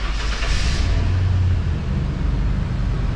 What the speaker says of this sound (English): Let's starting the engine.